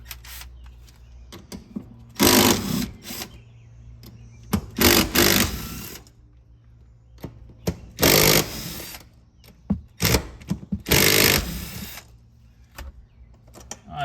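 A pneumatic or power ratchet spins off 14 mm bolts from a Lexus fuel pump assembly, with several short loud whirring bursts separated by quiet pauses and small clinks.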